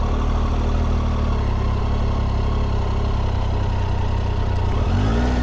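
A BMW motorcycle engine runs steadily at close range through a slow U-turn, a loud continuous drone with a brief rise in revs near the end.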